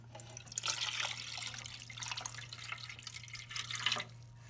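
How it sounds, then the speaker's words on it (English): Water trickles and splashes into a container during a hobby brine shrimp hatchery setup, topping up salt water to fill it; a steady, close pouring sound with small drips, alone and with a low steady hum underneath. "then I just get more water to finish filling up the container here"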